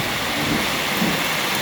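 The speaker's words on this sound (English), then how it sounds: "the rain started coming down" Rain pours steadily outdoors on a homestead in Mexico during the first thunderstorm of the rainy season, a loud, even wash of noise with a faint low rumble underneath.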